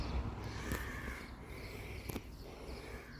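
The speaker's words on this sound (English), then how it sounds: "You hear the crows crowing." Crows caw faintly in the distance around St Mary's Church in Mosterton, Dorset: two short, harsh calls stand out over quiet outdoor background noise.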